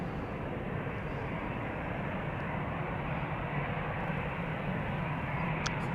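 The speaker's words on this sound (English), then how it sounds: "I'm pretty sure we will see a couple of narrow bodies take off from Cheaters Lane before Her Majesty is going to take off." A narrow-body airliner takes off at Amsterdam Schiphol Airport, a loud, steady roar of engines that fills the air and holds without a break.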